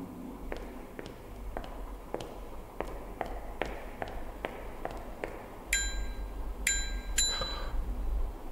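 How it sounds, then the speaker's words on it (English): A few sharp bicycle bell rings in a video game near the end, bright and metallic, following a run of regular tapping footsteps. "We can ring a bicycle bell."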